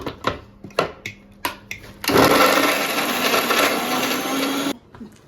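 A mixer grinder churns a chutney of coconut, garlic, ginger, mint, coriander, chili, salt, jaggery, tamarind and vinegar in one loud, steady whir lasting about two and a half seconds, framed by short clicks and knocks before and after.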